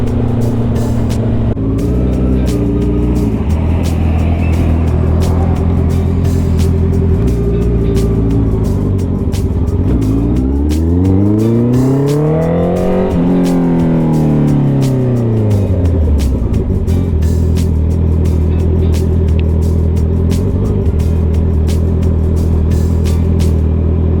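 Harley-Davidson motorcycle engine running steadily while riding, a loud continuous low rumble throughout, with a rising then falling pitch sweep midway as speed or revs change, no speech.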